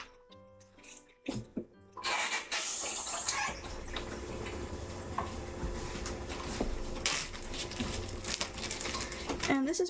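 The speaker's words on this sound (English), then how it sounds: "I just need to rinse my little piping bag tip" Water runs from a kitchen tap to rinse a metal piping bag tip, making a steady rushing splash with crinkling plastic and small clatters at the start.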